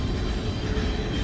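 A westbound CN freight train rolls through the Pointe-Saint-Charles railyard, its steel wheels grinding steadily on the rails in a loud, continuous metallic rumble with a faint high squeal riding on top, no voices.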